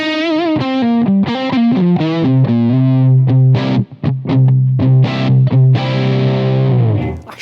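Guitar played through a DSM & Humboldt Dumblifier overdrive pedal, loud warm overdriven chords and single notes ringing out in a lively phrase with a brief dip in the middle, no voices.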